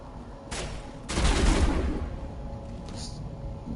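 Gunfire in Mass Effect Legendary Edition: a short burst near 0.5 s, then a loud, dense volley of shots with a booming low end that fades into rumble, and a faint extra shot near 3 s.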